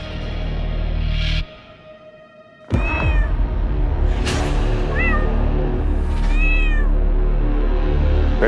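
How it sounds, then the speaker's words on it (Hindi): A pet cat meows repeatedly at close range, several rising and falling calls in a row over a steady background hum, with a short quieter gap near the start. "बिल्ली पाल रखी है आपने तो"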